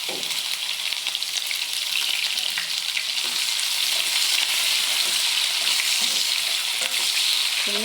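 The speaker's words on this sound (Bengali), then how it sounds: "চিংড়ি মাছের মাথাটা এখন সুন্দর করে ভুনা করে নেব। মশলাটা ভালো করে কষিয়ে নেব।" Prawn heads fried with spices in a pan give a steady, loud sizzle with crackling pops and the odd stirring scrape, running unbroken throughout.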